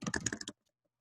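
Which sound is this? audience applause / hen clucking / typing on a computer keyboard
typing on a computer keyboard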